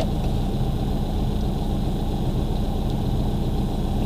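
A slightly tuned 1.9-litre diesel car engine idles with a steady, close, low rumble and clatter that holds unchanged throughout, with no voices.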